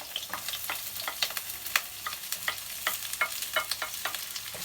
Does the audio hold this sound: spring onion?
yes